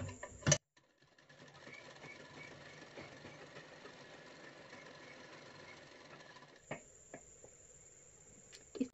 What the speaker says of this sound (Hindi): इस तरह मोड़ते हुए सिलाइयां लगा देना है।